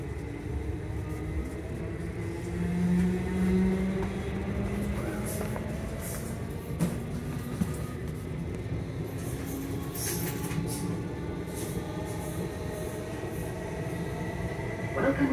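Steady low rumble of a Southern passenger train running toward London Bridge, heard from inside the carriage: a continuous, fairly even roll of wheels on track with faint higher rattles and no talking.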